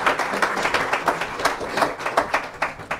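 A church congregation claps for the Lord in rhythmic, steady beats, a dense close round of applause with a regular pulse throughout.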